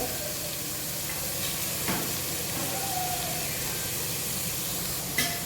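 Carrots fry in a hot pan for fried rice with a continuous, even sizzle and hiss. Occasional stirring knocks and scrapes stand out briefly above the steady frying.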